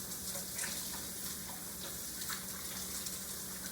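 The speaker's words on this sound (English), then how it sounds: "stick them back under the water and wash them off." Tap water runs steadily into a sink as soapy hands are rinsed under it, a continuous close hiss and splash with small irregular splatters.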